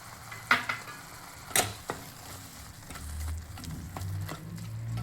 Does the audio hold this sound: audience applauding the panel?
no